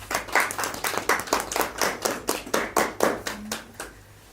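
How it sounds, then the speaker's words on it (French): Rhythmic hand clapping from a small audience at a live sketch and discussion event welcoming two guests, steady repeated claps close by and fading out at the end. "Je vous demande de les applaudir, s'il vous plaît."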